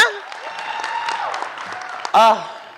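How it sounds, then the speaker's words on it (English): An awards-night audience applauds for Alicia, a moderate wash of clapping under a speaking voice, with a loud brief vocal burst near the end. "let's give a huge round of applause for Alicia"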